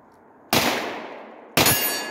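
Two sharp, loud gunshots about a second apart from a CZ Scorpion and a Glock 19 fired at targets on a shooting course, each crack followed by a ringing decay.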